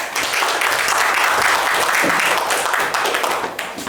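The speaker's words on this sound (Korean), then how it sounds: "큰 박수 모시겠습니다" Steady applause from the audience at a Korean regional industrial policy forum, welcoming a presenter to the stage; dense, continuous clapping that holds at full strength for about four seconds.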